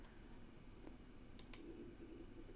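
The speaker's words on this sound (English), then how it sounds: "I'm just clicking here just to see how they feel about other things." A computer mouse clicks on a website: two quick, faint clicks close together over a steady background hum, with no talking.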